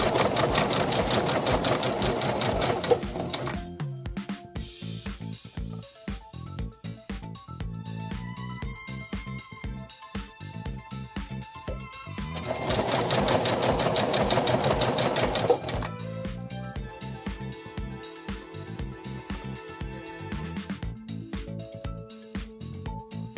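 A sewing machine hemming chiffon with a rolled hem attachment stitches in fast, steady bursts, close and loud, with two longer runs broken by shorter rattling stretches of stitching.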